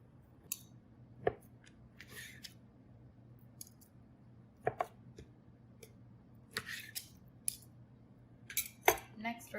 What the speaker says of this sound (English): cut all the fat off of your chicken breast, and then we're going to cut them into about 1-inch cubes